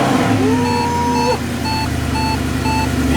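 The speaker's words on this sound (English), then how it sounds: "Cold start, SLS." A Mercedes SLS on a cold start runs loud and close with a steady rumbling idle, while repeated electronic warning beeps sound over it.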